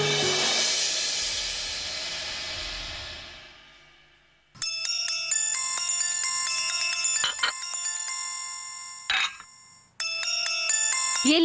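A mobile phone rings with an incoming call, a bright melodic ringtone that plays in repeated bursts with brief gaps, following a fading wash of background music.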